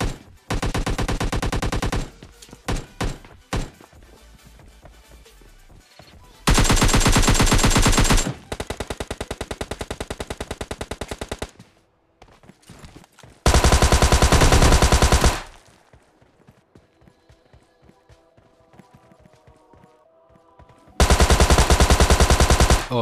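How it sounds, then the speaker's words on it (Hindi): Rapid automatic gunfire from the video game PUBG Mobile Lite comes in several loud, sustained bursts, with quieter stretches of scattered single shots and game sounds between them. "उतने में गाइस मुझे नीचे साइड से फायरिंग साउंड आता है"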